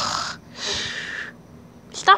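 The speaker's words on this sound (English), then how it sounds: "Stop snoring." A dog lying asleep snores in slow, breathy rasps, two long airy snores one after another, then a short sharper snort at the end, fairly close and alone.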